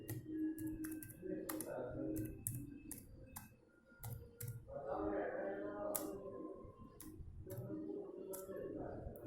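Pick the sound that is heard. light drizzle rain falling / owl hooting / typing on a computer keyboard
typing on a computer keyboard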